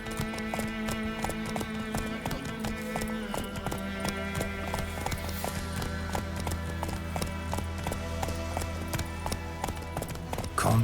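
Roach, Geralt's horse in the video game The Witcher 3 on PS5, gallops with continuous rhythmic hoofbeats, close and steady throughout, over a layered music bed.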